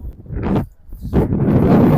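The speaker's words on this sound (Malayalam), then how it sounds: "നല്ല കാറ്റ്" Strong wind gusts buffet the microphone outdoors beside farmland and a leaning mosque in Qatar, making loud rumbling blasts in two surges with a brief lull between them, and no talk is heard.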